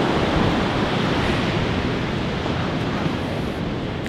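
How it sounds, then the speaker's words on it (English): Heavy surf roars continuously at a beach in Ireland, a dense wash of huge crashing ocean waves with no pauses, loud and close. "Waves are absolutely humongous."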